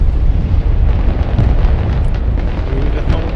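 An incendiary strike in the Broken Arrow war game erupts in a dense, roaring explosion, loud and sustained with crackling bursts layered over a heavy rumble.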